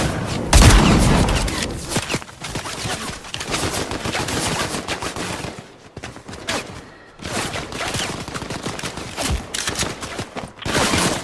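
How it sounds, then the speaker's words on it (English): Sniper rifle fire in a Fortnite match: loud, dense bursts of gunshots and game effects run almost continuously, with repeated sharp cracks and brief lulls. "he's about to use his sniper and misses at least 4 to 5 clear shots"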